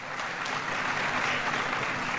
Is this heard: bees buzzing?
no